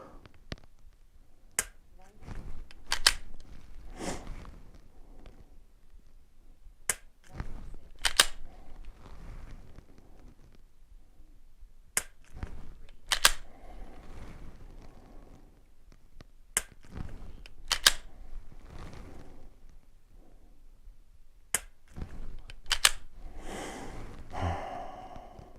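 Sharp, isolated pistol trigger clicks from dry-fire during a MantisX benchmark drill, about ten snaps spaced a few seconds apart, each crisp and close, with quiet breathing and handling noise between them.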